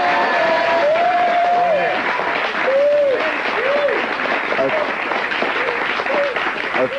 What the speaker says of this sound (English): we should all give a rousing round of applause